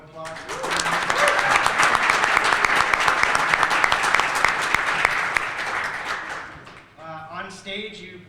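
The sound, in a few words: audience applause for the players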